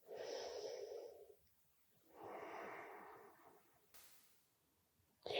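Two slow, deep breaths during a standing yoga stretch, each a long airy inhale or exhale heard close and soft with quiet gaps between, followed by a brief click-like noise.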